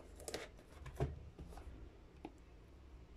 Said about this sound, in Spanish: Vamos a abrirlo con nuestras tijeras de carnicero